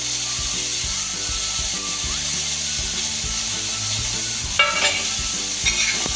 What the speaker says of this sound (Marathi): सगळा मसाला असा छान भाजून घ्यायचा.